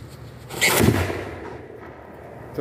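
A model rocket's first-stage motor ignites with a sudden sharp burst, then a short loud roaring whoosh that fades quickly into quiet outdoor background.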